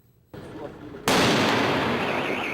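A bomb squad detonates dynamite explosives in a city street: a muffled thump is followed by a sudden massive blast whose roaring, crackling rumble sustains loudly to the end.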